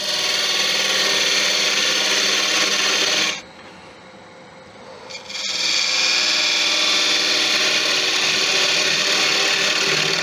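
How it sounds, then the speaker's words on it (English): A wood lathe parts off a turned wooden angel piece, a loud steady scraping whir of the tool cutting the spinning wood that breaks off into a brief near-silence before the running lathe returns. "now we just part it off"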